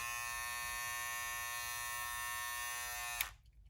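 A close, fully charged Fresh Fade electric hair clipper hums with a steady high buzz, then stops abruptly near the end.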